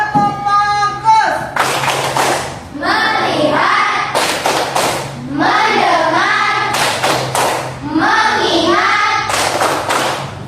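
Classroom tepuk fokus: a group of pupils claps in bursts of rhythmic patterns, alternating with a teacher and children chanting words aloud, near and loud throughout.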